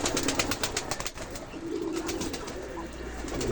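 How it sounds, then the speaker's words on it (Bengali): Several pigeons in a pigeon loft coo softly in low, rolling murmurs, close by, with faint rustling and a steady background hiss. "এই হলো আমার কবুতরের খামার।"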